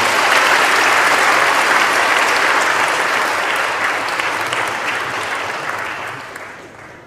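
A church congregation applauds warmly during an ordination service for elders, deacons and kwonsa at Gocheok Church, a full, sustained round that gradually fades over seven seconds.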